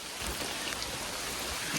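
Big raindrops fall through a dark forest canopy on a drizzly day, pattering steadily onto a jacket hood in a continuous, close, even patter with no voices.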